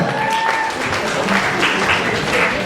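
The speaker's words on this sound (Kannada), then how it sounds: "ಬರ್ಲಿ ಚಪ್ಪಾಳೆ" Applause from a crowd at the logo launch event of a women's celebrity cricket league, a dense steady patter of clapping that stays even for the whole short span, with faint voices mixed in.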